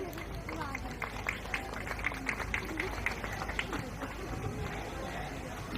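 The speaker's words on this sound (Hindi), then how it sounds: "एक बार जोरदार तालियां हो जाए इनके लिए।" An outdoor crowd at a protest rally at Jantar Mantar claps in a dense, irregular burst, with crowd chatter and voices mixed in throughout.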